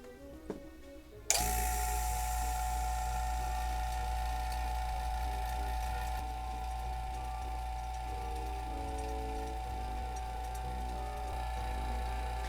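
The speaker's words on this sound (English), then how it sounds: "we're going to see how long it'll take for the vacuum pump to make all the water and moisture inside there go away and dry it out" After a short burst of other noise, a single-stage 3CFM vacuum pump starts abruptly and then runs with a steady, loud, buzzing mechanical drone while it dries moisture out of a sealed system.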